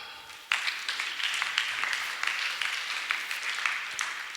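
An audience at a church children's gathering breaks into sudden applause, a dense wash of clapping that starts abruptly and carries on steadily with scattered louder claps.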